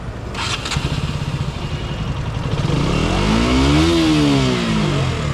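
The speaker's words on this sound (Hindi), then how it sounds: "थोड़ा सा एग्जॉस्ट साउंड सुनते हैं भाई. थोड़ा सा स्टार्ट करिए रेप करिए तो." A KTM RC 125 motorcycle starts with a couple of quick cranks, settles into a close, loud idle, then revs up and back down in a smooth swell through its exhaust.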